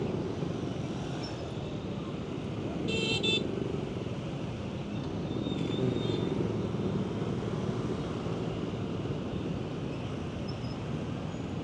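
Busy street traffic in Ho Chi Minh City, dominated by scooters: a continuous engine rumble with a couple of brief horn toots, heard from within the flow of vehicles.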